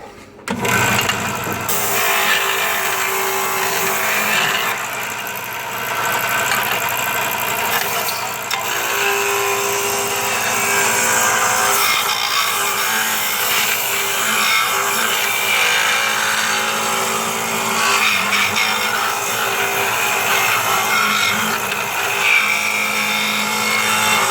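A Harbor Freight metal-cutting band saw starts up and runs steadily for the whole stretch, a loud, constant mechanical whir with slight shifts as it cuts.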